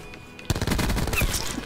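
Rapid automatic gunfire from a video game weapon, a dense, loud burst of overlapping shots that begins abruptly after a short quiet lead-in and continues to the end.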